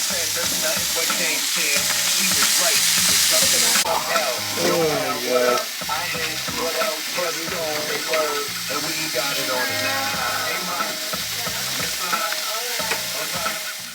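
Food sizzles loudly on an outdoor cook surface at a cabin, a constant frying crackle with stirring and scraping, while voices talk over it nearby.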